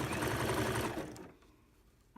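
A sewing machine runs in a quick, steady whir while stitching fold-over elastic onto a fabric gauntlet glove, then stops after about a second, leaving faint handling noises and a small click at the end.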